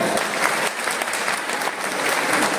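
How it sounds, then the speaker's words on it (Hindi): Dense, steady applause from a meeting audience fills the whole stretch, a loud, continuous wash of many hands clapping together with no pause. "एक बार मैं चाहता हूं कि आप लोगों के लिए जोरदार तालियां हो जाए"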